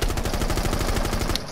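Automatic gunfire rattles in a ranked online shooter match, a loud, steady rapid stream of shots lasting over a second before cutting off.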